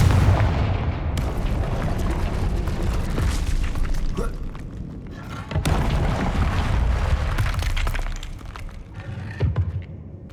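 A Confringo fire spell explodes in Hogwarts Legacy, heard as loud, deep booming blasts with rumbling tails, a fresh burst landing midway through the stretch of sustained combat noise.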